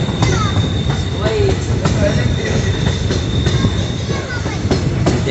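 A train rumbles steadily along a winding hill route in Assam, with rhythmic clatter and occasional metallic squeals from the wheels, loud and close throughout.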